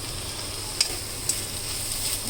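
Butter goes into a pan of sizzling amaranth leaf fry cooked with plenty of garlic, giving a steady low sizzle with two sharp pops and some stirring, no voices.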